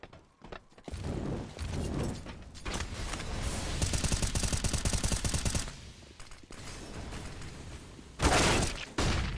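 Long-range Galil rifle fire in a Counter-Strike match: bursts of rapid automatic shots in several volleys, loud and close, with brief gaps between exchanges.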